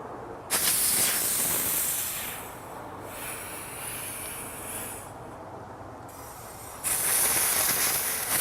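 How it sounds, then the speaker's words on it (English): A compressed air blower forces air into a 4CS motorcycle suspension fork, producing a steady broadband hiss that starts abruptly, eases in the middle, then surges louder near the end, with no voices. "we're going to take compressed air on your air blower and blow air into the fork"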